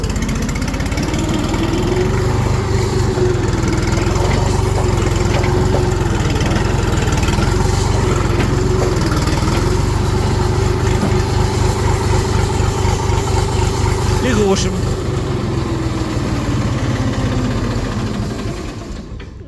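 An RD-244 tractor engine runs steadily at idle while the tractor is parked, a loud continuous low drone with a fast rhythmic throb throughout that fades slightly at the very end. No talk is heard.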